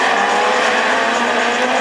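Citroën Saxo Kit-Car rallycross racer in a French Super 1600 championship heat at Châteauroux, engine screaming at high revs in a loud, steady, unbroken roar close by, with no voices.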